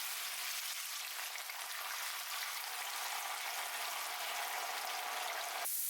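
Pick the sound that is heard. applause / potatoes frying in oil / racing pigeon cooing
potatoes frying in oil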